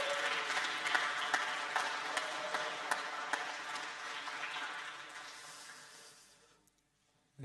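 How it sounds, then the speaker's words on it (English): A large conference audience at a TYPO3 Web Camp keynote applauds loudly, the clapping thinning and fading away over several seconds until it stops near the end. "So a big applause for yourself"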